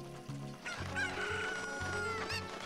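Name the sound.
chicken (cucco) clucking in Zelda: Ocarina of Time video game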